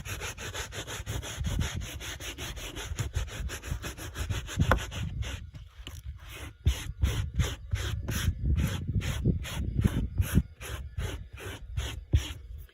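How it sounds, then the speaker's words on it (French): A very small Picot brush scrubs a car interior with steady, close bristle rubbing that turns into rapid rhythmic back-and-forth strokes partway through, with no voice. "Vous pouvez aussi utiliser la toute petite brosse Picot papillon."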